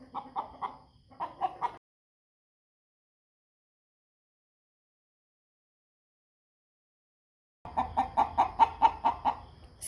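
An American Bresse pullet clucks in quick repeated bursts, nervous and on high alert, with a short run of clucks at the start, a long silent gap, then a louder, steadier clucking series close by.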